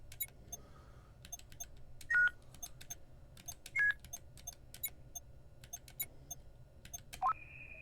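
Short electronic beeps and boops from a space-themed video game ring out in quick irregular bursts, with a few rising chirps over a faint low hum.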